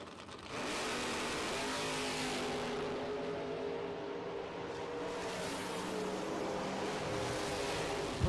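A Chevy II and a Camaro launching down a doorslammer drag racing track: a steady, droning engine roar, heard from a distance, holds for several seconds.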